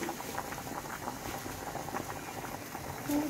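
Eggs and salt whisked in a bowl, a soft, rapid, irregular tapping and sloshing patter that continues steadily at close range, with no speech.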